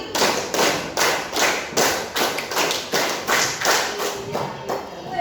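A primary-school class claps hands together in a steady rhythmic pattern, a run of sharp, loud, evenly spaced group claps repeated in sets, close and filling the room, with no talking over them.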